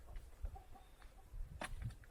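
Chickens cluck softly in short, scattered bursts with a few brief squawks, faint and close by with light background noise.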